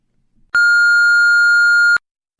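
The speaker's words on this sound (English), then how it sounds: "Leave a message after the beep." A single loud, pure electronic answering machine beep rings steadily for about a second and a half, then cuts off into silence.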